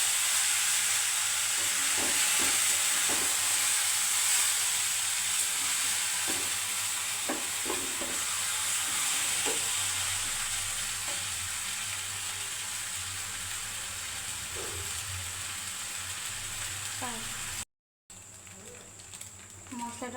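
Noodles land in a pan of well-fried onions, giving a steady loud sizzle and hiss that thins a little over time, with occasional stirring clatter and a short gap near the end.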